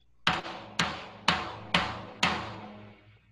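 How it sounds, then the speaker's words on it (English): Five evenly spaced floor tom hits, each a booming strike that rings and decays before the next, played alone at close range. "this is a floor tom."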